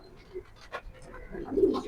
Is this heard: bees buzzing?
no